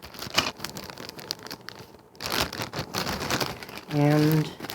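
A plastic Ziploc bag holding a custom Amazing Spider-Man figure is handled and opened up close, giving irregular crinkling and rustling bursts, followed by a short humming tone at the end.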